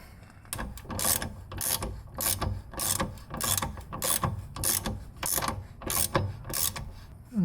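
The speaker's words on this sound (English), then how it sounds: "Then you just take wrenches and start turning these nuts." A ratchet wrench cranks nuts on a BMW E9X/E82 rear differential bushing, giving a fast even series of loud clicking ratchet strokes close up, a dozen or more in a row.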